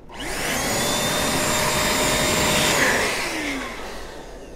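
An electric air duster (IT Dusters AirTec Type 6) whirring loudly with a high-pitched motor whine, spinning up quickly and holding steady before easing off slightly.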